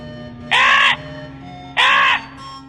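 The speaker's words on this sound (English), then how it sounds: "Such a smart crow." A crow in a cartoon moral story gives two loud, harsh caws, each about half a second long and a second apart, close and alone over a faint background hum.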